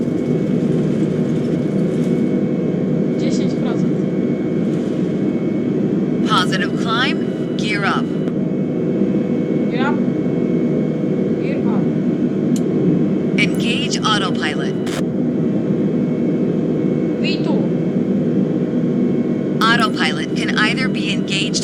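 Airliner engines in Microsoft Flight Simulator drone steadily at full takeoff power, a dense continuous roar throughout, with short cockpit chime-like tones and speech heard over it.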